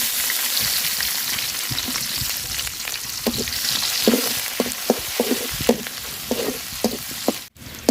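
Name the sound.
chopped onion and chili frying in fish-frying oil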